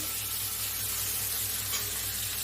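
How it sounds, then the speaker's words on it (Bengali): Carrots and beans frying in a pan for chowmein, a continuous loud hissing sizzle with a low steady hum beneath, unbroken and close. "গাজর আর বিনস দিয়ে এটাকে আমি ভালো করে ভেজে নেব।"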